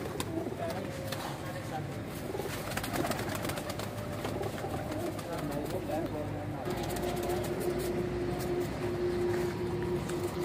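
Pigeons coo softly among a loft of about thirty-five birds while someone talks over them almost the whole time, with a steady background hum.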